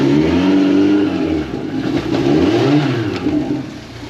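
A Suzuki DF115 four-stroke outboard motor, freshly serviced, revs steadily in gear, a loud, close, continuous engine drone that dips slightly and climbs again, with no voices over it.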